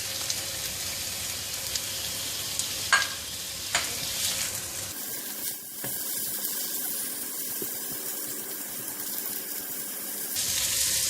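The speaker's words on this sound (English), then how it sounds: "I'm putting in the prawns and the sausage, lapchong," Prawns and lapchong sausage frying together in a wok with steady sizzle and stirring scrapes, a few sharp clanks early on, and a brief quieter stretch before the crackle returns strongly at the end.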